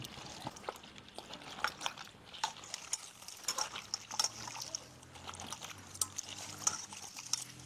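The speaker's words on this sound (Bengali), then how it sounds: "ঠিক আছে, আমি কফি ধুই, কফি, আলু, সজনা" Cauliflower, potatoes and drumsticks are washed by hand in water, with soft trickling, sloshing and light clatter of vegetables continuing close by, faint and irregular throughout.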